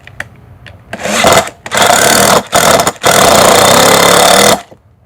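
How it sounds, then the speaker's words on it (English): Black & Decker Matrix impact driver driving a screw into wood, with loud ratcheting bursts of hammering: a short burst, two medium ones, then a long sustained run before it stops, heard alone up close. "I'm going to put a screw into this wood with an impact"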